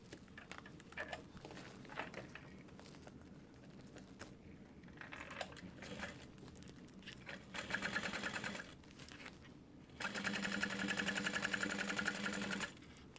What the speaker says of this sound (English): I'm going to baste at 1/8 of an inch